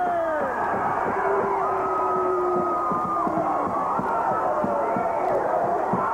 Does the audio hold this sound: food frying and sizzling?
no